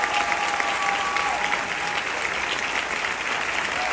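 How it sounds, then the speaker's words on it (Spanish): A theatre audience gives a loud, sustained ovation for the maestro at a stage show's 100th-performance celebration, many hands clapping in a thick, continuous wash with a faint crowd murmur underneath. "Maestro Mario Alberto, un fuerte aplauso para él"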